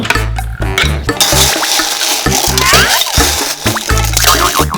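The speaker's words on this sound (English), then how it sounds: "first we need to put ice into this bowl" Ice cubes go into a bowl, clinking and rattling in a quick series of bright knocks mixed with a low bumpy sound, fairly loud and close.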